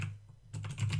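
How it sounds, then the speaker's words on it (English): A computer keyboard being typed on, with a brief quick run of soft key clicks over a steady low hum, starting halfway through a very short moment. "And then I'm going to type"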